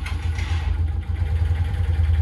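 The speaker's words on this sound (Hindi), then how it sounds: "बिल्कुल स्मूथ स्टार्टिंग है इसकी, फर्स्ट सेल्फ स्टार्ट है भाई" A motorcycle engine in good condition, standing unused for two weeks, runs at a steady idle after a self-start, with a continuous low rumble close by and no talk.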